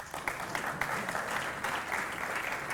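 An audience at a creatives' conference claps steadily, producing a dense, sustained patter of many hands that stays fairly even in loudness for the whole stretch, with no talk over it.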